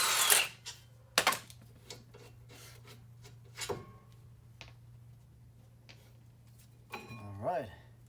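Power tool working loose the brake bracket bolts on a 2023 Mazda 6, heard as short rasping bursts spread through a workshop with a steady hum underneath and a louder, rising whir near the end.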